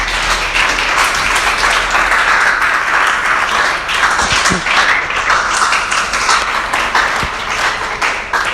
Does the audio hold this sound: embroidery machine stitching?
no